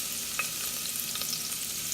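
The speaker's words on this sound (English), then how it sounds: "We're going to put the celery root into the olive oil" Steady hiss of celery root frying in olive oil over medium-high heat, with a few soft pops and stirring clicks, close by and without voices.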